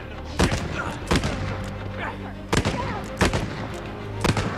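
Gunshots in Uncharted 4, five or six sharp, loud cracks fired singly at uneven intervals over a low game-ambience bed, each with a brief echoing tail.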